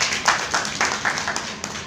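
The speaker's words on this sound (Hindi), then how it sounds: "गुड आंसर, ताली दियो।" A classroom of repair trainees claps in short scattered bursts, a small group's applause rising and falling indoors with no one speaking over it.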